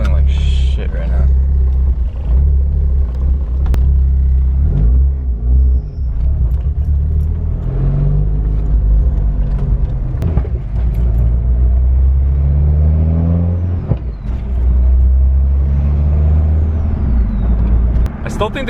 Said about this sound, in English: Man, it's idling like shit right now.